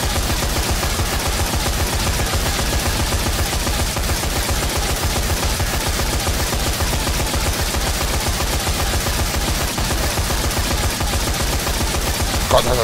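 Rapid, sustained gunfire fills a Dead Rising 4 video game session, a dense, loud, relentless stream of automatic shots with no break across the whole stretch.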